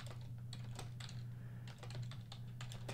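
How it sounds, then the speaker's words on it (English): Rapid keystrokes clatter on a computer keyboard, close and crisp, in irregular bursts over a low steady hum. "all I do is I just hit the space bar, and I can type in my text."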